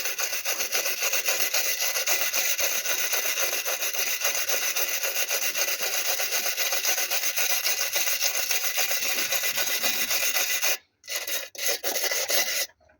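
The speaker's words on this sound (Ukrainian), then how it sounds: "Ну, так ми зачистимо цю зону." Close rasping scrape of a surface on a new automotive funnel with a factory defect being cleaned down, a steady, rhythmic rubbing that runs without a break and then stops in a few short bursts near the end.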